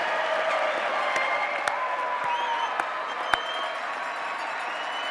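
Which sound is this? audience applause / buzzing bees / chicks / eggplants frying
audience applause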